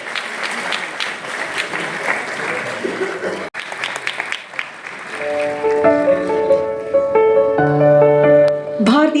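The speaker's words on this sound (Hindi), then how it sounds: "एक बार जोरदार तालियां बजाएं।" A crowd at a film trailer, poster and song launch event claps loudly for several seconds, then the applause gives way to a swelling sustained musical fanfare with tonal chords.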